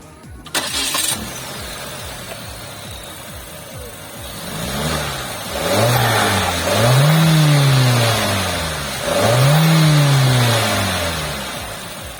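A Chery Omoda 5 with a 1.5 turbo engine cranks briefly and starts, then idles and rises in several smooth revving surges that climb and fall, loud and close, with no talk.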